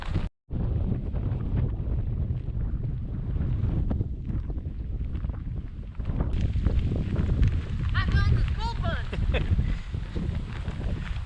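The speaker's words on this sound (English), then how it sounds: "The wind has been whipping all day." Strong wind gusts buffet a microphone on a frozen Appalachian Trail mountainside, a steady loud roar of low rumble throughout with a brief dropout near the start, and faint voice-like sounds in the middle.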